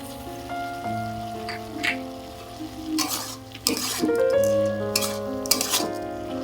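Dalia khichdi with masoor lentils and turmeric fries and is stirred in a pan, giving a steady crackling sizzle with scraping stirs that surge in the middle, under soft background music.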